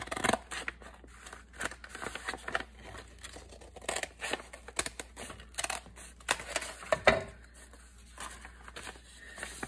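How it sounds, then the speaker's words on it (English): Scissors snip through a paper bag in a quick run of crisp, close cuts with papery rustles, each blade closure sharp against a quiet room, no talking. "Cut it on the same original line."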